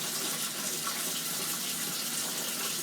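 Cold tap water pours steadily into a HADIN EEON GK2003CT electric kettle, a continuous close gushing splash with no breaks and no voices.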